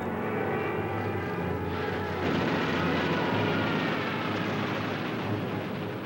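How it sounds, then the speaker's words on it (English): German WWII warplanes roar overhead in a loud, steady drone that swells after about two seconds and stays dense and rumbling to the end, with no voices. "But Nazi planes bomb Allied positions daily."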